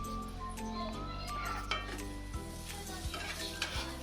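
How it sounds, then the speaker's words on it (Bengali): Brinjal (eggplant) fries in a pan with a steady, close sizzle of hot oil, broken by occasional clinks and scrapes of a utensil stirring it. "আমি প্রথমে বেগুনটা ভেজে নিচ্ছি।"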